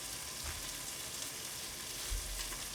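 Soy sauce and cooking wine sizzle as they hit caramelized Brussels sprouts in a pan. The hiss is soft and constant, with faint stirring thumps.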